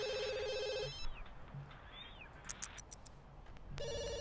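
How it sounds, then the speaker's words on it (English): A telephone rings in The Sims video game with two bursts of electronic bell tone, one at the start and one at the end. Quieter game sounds and chirps fill the gap between them. "Phone is calling. Take it."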